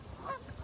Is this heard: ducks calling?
yes